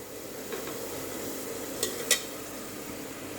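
Ginger paste with onion and tomato sizzles softly in a frying pan. The hiss stays faint and steady, broken by a couple of brief utensil clinks.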